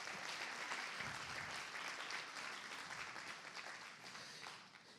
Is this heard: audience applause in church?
yes